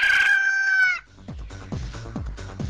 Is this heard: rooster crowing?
yes